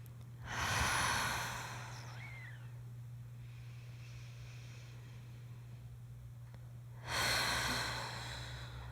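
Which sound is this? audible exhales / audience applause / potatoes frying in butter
audible exhales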